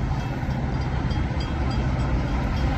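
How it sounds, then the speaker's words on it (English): A Southwest Service commuter train rolls into the 143rd Street station at Orland Park, a steady loud rumble and rail roar filling the whole stretch with no break. "Southwest service train number 815 to Manhattan is now arriving."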